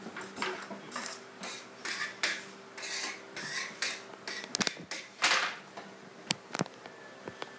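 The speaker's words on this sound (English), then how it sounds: "Now, peel off some aluminum foil here." Aluminum foil is pulled and peeled off a roll in a kitchen. Repeated crinkling, rasping rustles and crackles sound up close in uneven bursts, with sharp clicks near the end.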